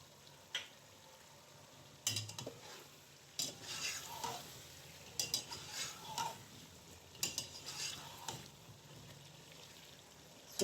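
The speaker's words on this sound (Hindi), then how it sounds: "सूखा धनिया मैंने 2 मिनट भून लिए।" Dry coriander roasts in a pan for chicken lemon korma, with scattered spoon scrapes and stirring over a soft, quiet sizzle, and no talking.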